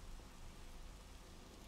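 Minecraft rain falls in the open, a soft, even hiss of steady downpour that continues without break and stays faint throughout.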